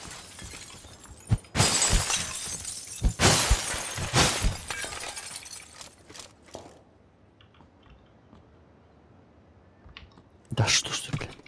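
Glass windows being smashed in a multiplayer shooter video game: several loud, sharp shattering crashes in quick succession, a quieter lull with small tinkles, then another burst of breaking glass at the end.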